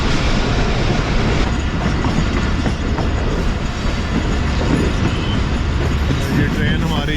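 The Tezgam passenger train runs on the rails in Pakistan as it approaches Mian Channu railway station. A steady, loud rumble and rhythmic clatter of wheels carry on without a break.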